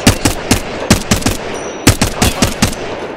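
Rapid bursts of gunfire in the Apex Legends shooter, sharp close cracks in quick clusters separated by brief pauses, loud and without talk.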